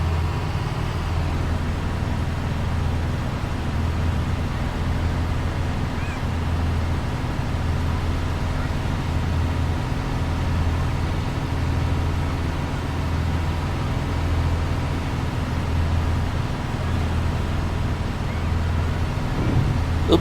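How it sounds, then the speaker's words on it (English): School bus engine in Bus Simulator 21 driving a long stretch without stops: a steady low diesel drone with a faint whine, constant and unbroken, with no talking. "Let's enjoy the engine noise for a moment."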